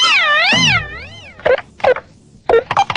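An animal puppet machine in an animated show produces a cat's meow: a long wavering wail, then several short sharp meows in quick succession, loud and close, with no talk.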